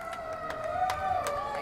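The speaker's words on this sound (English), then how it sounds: "We'll allow the siren to give echo to that." An emergency vehicle siren wails outdoors at a rally for Israel at Freedom Plaza in Washington, DC. Its steady tone bends slowly over a background of crowd murmur.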